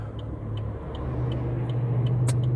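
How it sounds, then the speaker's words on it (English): Traffic on Highway 52 near the Root River on a busy Thursday: a car's engine hum and tire roar swell steadily as it approaches and passes close by, with light ticking in the background. "A lot of traffic today for a Thursday."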